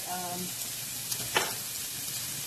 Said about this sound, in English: I'm going to go ahead and add my onion to the pan. And we're just going to let this saute